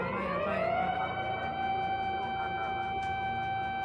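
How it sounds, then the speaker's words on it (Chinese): A steady wailing alarm siren sounds from an oil refinery at Sendai port during an earthquake. It is a continuous sustained tone, heard from a distance over constant rumbling background noise. "仙台港的炼油厂警报声大作，让民众相当害怕。"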